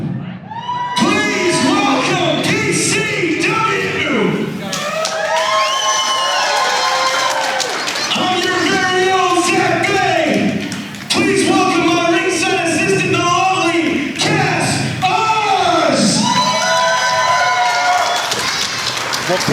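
A wrestling crowd at ringside cheers, whoops and applauds loudly, with bellowing voices and shouts rising and falling in waves over continuous clapping throughout.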